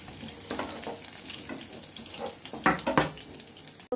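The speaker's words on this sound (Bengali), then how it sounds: "এবার হালকা করে ভেজে আলুটা তুলে নেব।" Potatoes frying lightly in oil with turmeric, a soft continuous sizzle heard up close. A few louder stirring scrapes come near the middle and a sharp knock follows just before the end.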